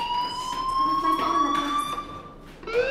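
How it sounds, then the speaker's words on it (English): A school fire alarm in the video game Life is Strange sounds in a steady electronic tone that rises slightly, persisting loudly through the whole stretch with brief background sounds mixed in. "Do you hear that fire alarm?"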